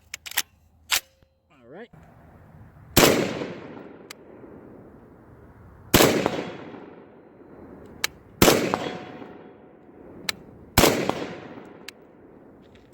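Marcolmar CETME L rifle fires four loud, sharp shots a few seconds apart outdoors, each followed by a rolling echo, with small steel target plates faintly pinging; someone speaks briefly at the start.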